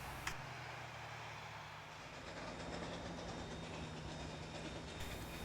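Steam locomotive Number 3 pulls away from Niles with a passenger train on the Niles Canyon Railway, giving a steady rolling rumble with faint rhythmic clatter of the cars.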